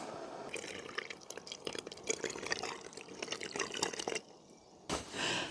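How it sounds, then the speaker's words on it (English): Hot water pours into a water bottle inside an abandoned building at night. A close, continuous splashing trickle runs for several seconds, stops briefly, then gives a short final gurgle. "I'm going to put the hot water in here"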